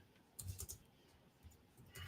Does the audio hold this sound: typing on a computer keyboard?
yes